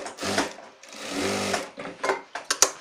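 An electric sewing machine stitching a shirt seam in a tailoring shop, whirring in two longer runs followed by short stop-start bursts, close and fairly loud.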